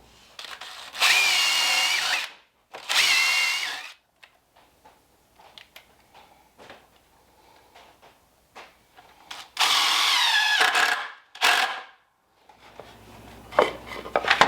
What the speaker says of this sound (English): I should be able to just put them in with some deck screws.